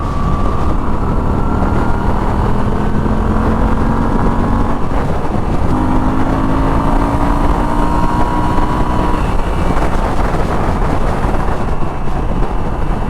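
Moto Guzzi V7 Stone two-cylinder motorcycle engine on a ride, droning loud and steady with rising and falling revs under heavy wind rush.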